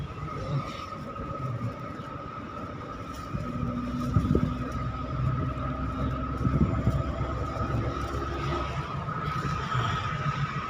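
A car driving in third gear on a road at Ichapur gives a steady, continuous engine drone with a constant hum and low road rumble, swelling slightly in the middle before settling.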